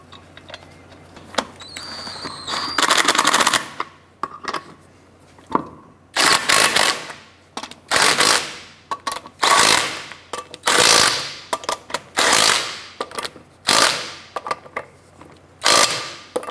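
An impact wrench snugs lug nuts onto the wheel of a 2006-2013 Chevrolet Impala, a dozen or so loud, close whirring bursts, each ending in rapid hammering, separated by short pauses.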